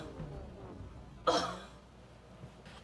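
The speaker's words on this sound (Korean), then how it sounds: "왜 이렇게 기침을 하시는 거예요?" Someone clears their throat and coughs in a short burst after eating a sauce made with freshly chopped spicy cheongyang chili peppers, heard close and set against quiet background murmur.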